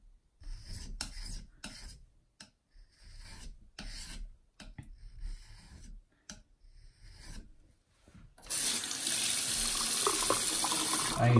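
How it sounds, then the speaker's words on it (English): Several close gritty strokes of a blade on a natural whetstone come in quick bursts, then running tap water gushes steadily over the stone as it is rinsed off. "I occasionally wash the stone off like that"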